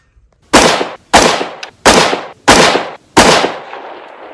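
Springfield Edge ATC Elite AR rifle firing 5.56 rounds at a range: five sharp, loud, evenly spaced shots about half a second apart, each with a brief decaying echo, no talking.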